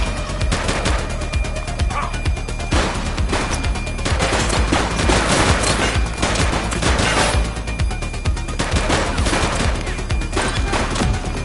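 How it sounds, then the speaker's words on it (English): Dense, sustained gunfire in the police video game The Precinct, rapid bursts and shots rattling continuously and loudly over steady background, with faint voices mixed in. "She's shooting!"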